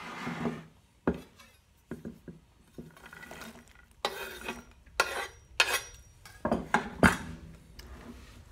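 Coarsely chopped walnuts folded into thick date-nut loaf batter in a bowl, a series of irregular wet scraping and stirring strokes with occasional spoon knocks against the bowl, close and clear.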